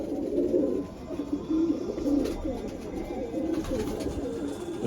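Adult pigeons with ringed legs coo close by in low, rolling murmurs that repeat in uneven bursts all the way through.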